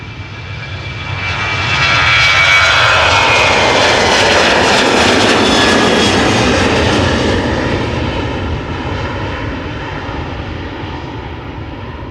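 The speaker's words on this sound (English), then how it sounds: "A320 from EasyJet to Manchester in the background." EasyJet Airbus A320 jet engines at Amsterdam Schiphol Airport, a loud roar building over a couple of seconds, holding steady, then slowly fading as the airliner departs, with no voices.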